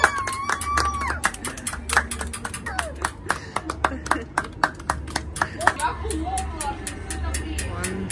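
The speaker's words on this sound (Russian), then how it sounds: "Все начали хлопать." Neighbors clapping together outdoors during quarantine: a sparse, uneven run of sharp hand claps from several people at different distances, some close and crisp, others fainter, with people talking over them.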